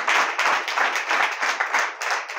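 A church congregation claps hands together in a dense, rhythmic burst of many palms, loud and close, steady for a couple of seconds.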